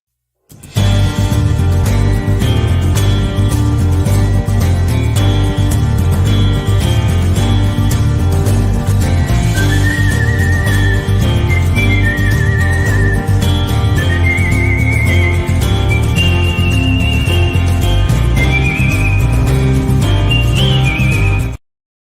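A loud whistled melody rises and falls over a steady musical backing, running continuously for about twenty seconds before ending abruptly.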